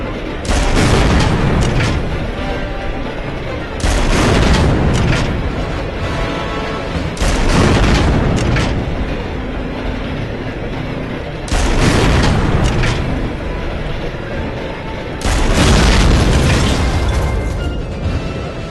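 Heavy turret cannon fire in Medal of Honor Frontline, five loud booming blasts spaced a few seconds apart, each rolling out into a long rumbling tail.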